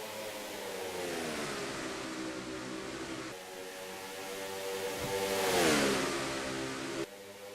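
Stock car engines roar in a racing video game as a 1982 Thunderbird and other cars run laps. A steady engine drone rises in pitch and grows louder as cars sweep past, then cuts off abruptly near the end.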